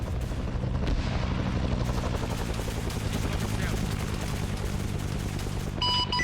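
Dense, continuous gunfire and sustained firefights from a large Vietnam War multiplayer video game operation with many AI combatants, loud and unbroken throughout, with voices mixed into the chaos.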